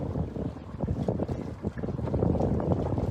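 A sailboat moves through strong wind, with loud gusty buffeting on the microphone and rushing water and hull noise close by, no voices.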